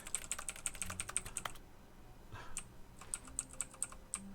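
Keyboard typing as a game sound effect in The Stanley Parable: Ultra Deluxe, bursts of rapid clacking keystrokes, a pause, then another quick run of taps, fairly faint with no talk.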